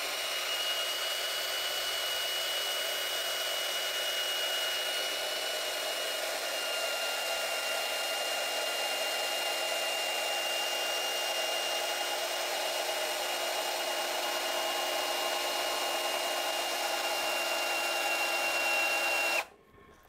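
A Premier HL 818 brushless cordless impact drill bores a 16 mm bit through meranti wood, whining steadily for a long stretch at one constant pitch, a high motor hum that stops abruptly near the end.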